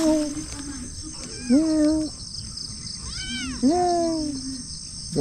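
Two clear cat meows close by, each with a rising then falling pitch, separated by a short pause, over a steady high-pitched insect drone.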